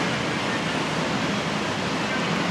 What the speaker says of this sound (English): We are here at the Datanla Waterfall